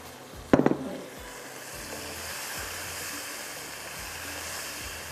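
Raw chicken dropped into hot oil in a pan for chicken angara, with a sharp splash at the moment it goes in, then a steady hiss and sizzle of frying that carries on alone.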